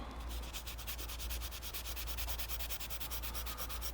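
Abrasive rubbing on a hardened, blued steel part from a Boxford AUD engineer's lathe being restored, a steady close scrubbing texture with fast regular strokes throughout, no voices.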